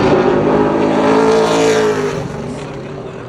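A Pro Late Model race car screams past on a qualifying lap at Crisp Motorsports Park, its loud engine roaring high and steady before the note drops and fades as it moves away.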